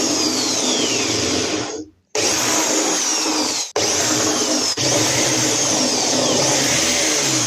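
A power drill boring a 6mm hole through a plate, a loud, steady whine that drops out twice for a moment and then resumes, continuing through to the end.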